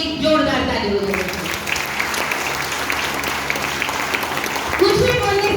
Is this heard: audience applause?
yes